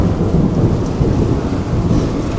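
Thunder booms and rumbles loudly overhead during a rain and dust storm, a dense, continuous roll mixed with the hiss of falling rain, with no voices.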